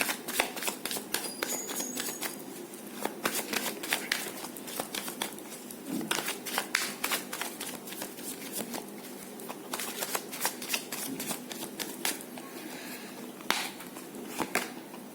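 Tarot cards are shuffled close by in repeated riffling bursts and soft slaps, with brief pauses between rounds, crisp and fairly quiet, with no talking.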